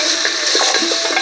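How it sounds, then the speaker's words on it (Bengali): Mutton leg pieces are stirred with fried spices in a pan, making soft scraping and light sizzling sounds with faint utensil clinks, close and steady. "লেগ পিসটা দিয়ে ভালো করে একটু ভাজা মশলার সাথে এইভাবে মিশিয়ে নিচ্ছি"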